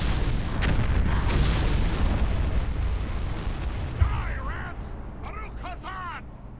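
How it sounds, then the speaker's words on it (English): An explosion in the video game War in the North, a loud, deep rumbling boom that slowly fades, followed by voices talking. "That's an explosion."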